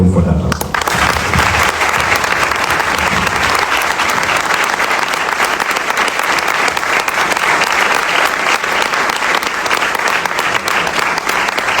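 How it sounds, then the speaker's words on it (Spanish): Loud, sustained applause for the winner at a book presentation during a congress in Úbeda, a dense unbroken wall of clapping lasting the whole stretch. "me gustaría que pidiéramos a nuestro ganador con un fuerte aplauso"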